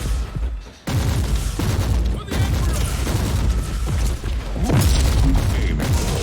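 Gunfire and booming impacts from the Warhammer 40,000: Inquisitor - Martyr video game, a dense, continuous barrage of loud blasts and thuds that runs almost without pause, broken only by a brief drop near the start.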